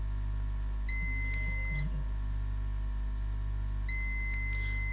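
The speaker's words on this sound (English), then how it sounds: "so this MOSFET is beeping." Two steady electronic beeps from a multimeter continuity test on a MOSFET in a Lenovo Yoga 260 laptop with a no-power fault, each about a second long, spaced a few seconds apart over a constant low hum.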